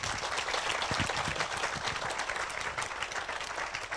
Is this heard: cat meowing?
no